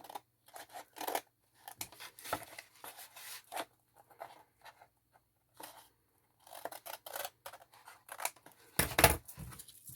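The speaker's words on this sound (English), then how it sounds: "So if you use big scissors, you can see where your blades are going. Just cut the corners off." Crisp snipping of large scissors cutting corners off, in irregular bursts of several snips with quiet gaps, close and fairly soft, a louder rustle near the end.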